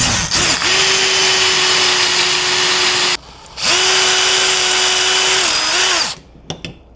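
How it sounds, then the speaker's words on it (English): A power drill whines steadily in two long bursts with a short pause between, drilling out a rivet on a truck tonneau cover latch, loud and close, no talking. "So I'm just gonna drill out the rivet."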